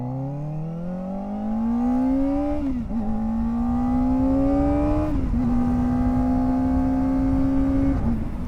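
A Kawasaki ZX-4RR sport motorcycle with a loud aftermarket exhaust revs up steadily through several gear shifts, engine note climbing and holding, close by.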